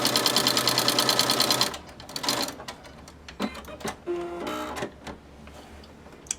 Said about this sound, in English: right here I am just gonna sew a straight line right across these